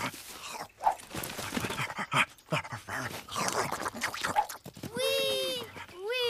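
A dog whimpers and yelps amid busy sound, with a rising, wavering high whine near the end; people talk excitedly over much of it.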